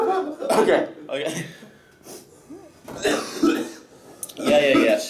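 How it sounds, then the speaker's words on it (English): A person coughs repeatedly in close, loud bursts with throat clearing, mixed with chuckling and voices on a film set during outtakes. "He's coughing."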